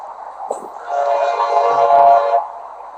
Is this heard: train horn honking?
yes